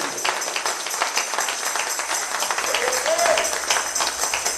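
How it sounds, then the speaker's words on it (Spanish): Church congregation clapping together in steady applause, a dense even wash of handclaps carrying on at moderate volume throughout. "Dale un aplauso al Señor con todo tu corazón."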